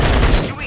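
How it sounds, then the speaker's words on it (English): Dense gunfire from the video game RoboCop: Rogue City, a rapid, loud fusillade of overlapping shots that rattles on and then thins slightly toward the end of the short burst. "Gunshots? What's going on?"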